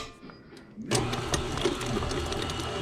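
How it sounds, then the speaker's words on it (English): An electric mixer kicks on and whirs steadily while beating two sticks of salted butter for chocolate chip cookies, a busy mechanical rattle close by. "So we got 2 sticks of salted butter in the mixer."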